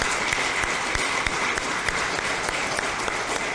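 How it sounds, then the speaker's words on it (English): Audience applause for a guest economist at an evening business talk, a full continuous round of clapping at an even level, close and unbroken with no voices on top. "Let's give Dr. Roach a round of applause."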